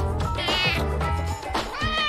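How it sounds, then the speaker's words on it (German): A house cat meows several times in close succession, loud and near, with drawn-out, wavering cries and no talking over them. "Oh, Miezi, du bist das perfekte Model"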